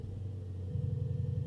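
A 2024 Mercedes-Benz S930 Brabus with a 930-horsepower V8, set to Sport Plus, fires up. It gives a deep, steady rumble that swells partway through into a fuller, pulsing idle, heard alone up close.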